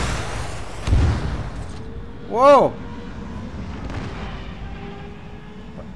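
Gunfire and an explosion ring out during an attack in the military game ArmA 3: a low thud near the one-second mark, then a louder sweeping blast a little later, over steady background noise, with a voice exclaiming.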